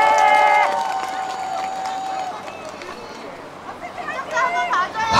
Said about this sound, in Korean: 박수 많이 주세요